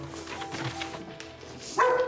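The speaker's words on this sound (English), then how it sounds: "Nanook's barking and posture is a sign that she's nervous" A nervous dog named Nanook gives a few barks and yips, moderately close, with a sharper, louder bark near the end over a quiet background.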